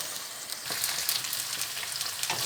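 Chopped onions frying in a pan while a tomato-based dish is prepared, a steady close sizzling hiss with soft crackles throughout, no voices.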